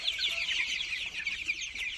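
Young tiger chickens, hens around 800 grams at 24 days old, cluck and chirp steadily in a high, busy chorus close by, with no talking.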